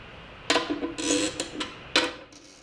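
Tension hooks being tightened with a wrench on a Deering Goodtime banjo head, producing a few close metallic clicks and short ratcheting, ringing tones in quick bursts, no voices.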